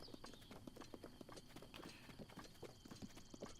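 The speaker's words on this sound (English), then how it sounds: "Oh, somebody's riding a horse." Horse hooves clip-clop in The Legend of Zelda: Breath of the Wild, a steady rhythmic trot of hoofbeats close by over a soft game ambience.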